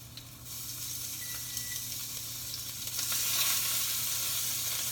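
Steaks sizzle and fry on a hot griddle, a steady bright hiss throughout that swells louder toward the end.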